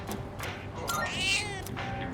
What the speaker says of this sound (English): Oh, right, cat. Almost forgot about the cat.